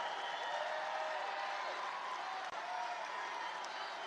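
A large outdoor crowd at a Trump birthday rally, cheering and roaring: a dense, steady wall of many voices heard from a distance, sustained evenly throughout with no single voice standing out.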